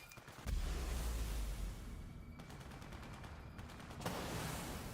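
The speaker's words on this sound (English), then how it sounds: "What are those grenades?" Rapid gunfire and explosive blasts from the Borderlands 4 shooter game crackle in dense, sustained bursts, with a heavy low boom near the start, all fairly quiet in the mix.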